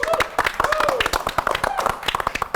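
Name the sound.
clapping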